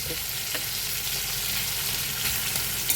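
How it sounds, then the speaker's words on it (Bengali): Raw tomatoes frying in a pan with browned onion, green chillies, salt and turmeric, giving a continuous close sizzle with light stirring scrapes. "পেঁয়াজটা আমার লাল লাল হয়ে গেলে টমেটোগুলো দিয়ে দেবো চলো তো টমেটোগুলো দিয়ে দিয়েছি"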